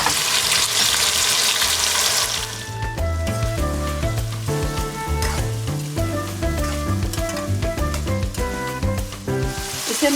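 Carrots and potatoes hit a hot pan for a vegetable curry with fenugreek, giving a loud hiss of sizzling at first that soon sinks beneath tuneful background music.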